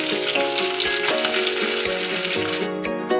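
Fish frying in hot oil gives a loud, steady sizzle that runs unbroken throughout, with a tonal melody playing quietly underneath.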